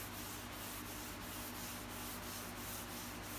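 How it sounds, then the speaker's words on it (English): Light scrubbing on a walnut cabinet being stripped with vinegar, a steady close rubbing hiss with faint rhythmic strokes about every third of a second, continuous and alone. "So it's all light scrubbing."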